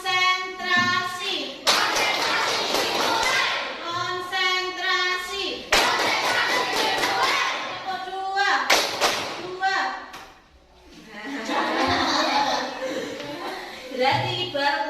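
Schoolchildren play the tepuk konsentrasi clapping game in a classroom, with bursts of brisk group clapping between stretches of chanting and an adult voice speaking.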